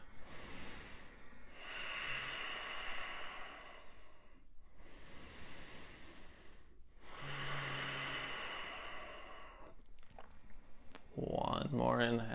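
Slow, deep breaths taken while holding a yoga pose, each long airy inhale and exhale clearly audible up close, about four cycles, with a brief faint voice near the end.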